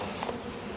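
Honey bees buzz steadily on a frame freshly lifted from an apiary hive, giving a close, even insect drone with no talk over it.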